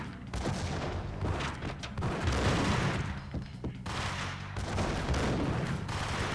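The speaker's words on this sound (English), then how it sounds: "Maybe I should just throw, like, a grenade in there." Grenade explosion and gunfire in Max Payne, a dense barrage of sharp shots and bursts with booming blasts in repeated waves, loud and close, with occasional brief talk.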